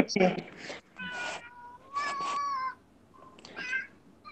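A male cat meows several times in drawn-out, tonal calls spaced across a few seconds, fairly close and clear, with a person talking around the meows.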